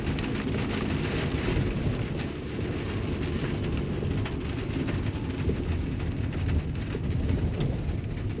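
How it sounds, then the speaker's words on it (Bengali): Steady, heavy monsoon rain falling on a mountain road trip to Gangtok by car, a dense continuous hiss with a low rumble beneath, unbroken throughout. "বৃষ্টি পড়ছে"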